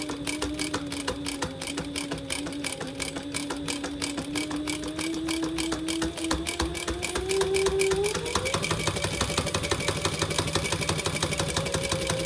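A sewing machine runs continuously while top stitching the pocket piece of a crossbody bag, a steady close whirring hum that rises in pitch and speed partway through and holds there to the end.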